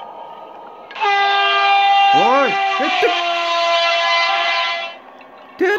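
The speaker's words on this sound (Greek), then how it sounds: "τι είναι το τώρα, τρένο ήταν αυτό" Loud, sustained multi-tone train horn from Minecraft, blaring for several seconds over a low rumble, with brief warbling squeals and a short vocal exclamation near the start before the horn fades out.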